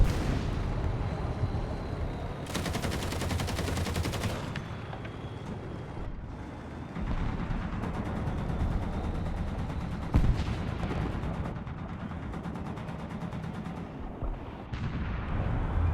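Gunfire crackles in a tank simulator video game, with bursts of rapid automatic fire and heavier distant blasts over a constant engine-like rumble, no voices.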